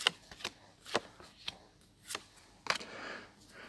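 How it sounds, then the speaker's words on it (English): Tarot cards are shuffled in a handful of sharp, separate riffles and slaps spaced about half a second apart, close and fairly quiet, followed by a soft shuffling swish. "So I'm going to pull a few cards to see what."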